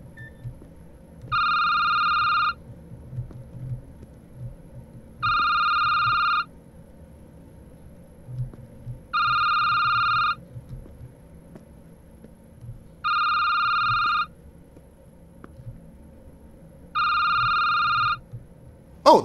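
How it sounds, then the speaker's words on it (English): A phone rings in the Security Booth video game: five evenly spaced electronic ring bursts, each about a second long, repeating every few seconds over a quiet low background hum. "Oh, the phone!"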